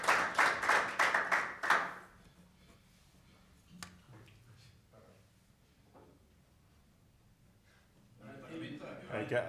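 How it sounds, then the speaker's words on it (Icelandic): Audience applause at a handball awards ceremony, a loud two-second burst of clapping that gives way to quieter talk and room noise, with voices rising again near the end. "Gefum honum gott klapp."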